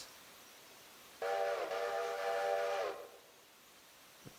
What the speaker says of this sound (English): Quick double whistle and pull away.